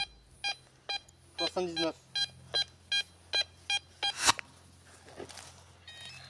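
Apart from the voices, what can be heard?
metal detector beeping over a target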